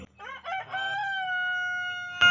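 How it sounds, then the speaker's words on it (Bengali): A rooster crows nearby in a coop a cobra has entered, one drawn-out call that rises and holds before ending abruptly, with a few clucks at the start. "ভিডিও ডিস্টার্ব করে দিচ্ছে মুরগে"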